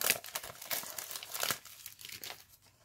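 A plastic sachet holding a mystery mini toy crinkles and crackles in repeated bursts close up, handled steadily, with no one speaking.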